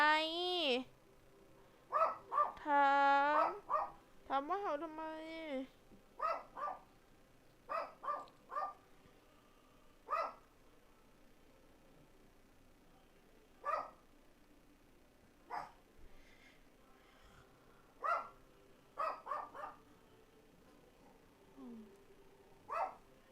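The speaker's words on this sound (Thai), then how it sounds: "เห่าทำไม" Dog barking and yipping close by, several quick bursts at the start, then scattered single barks spaced a few seconds apart over a quiet room background.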